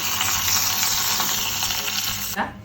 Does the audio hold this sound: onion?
yes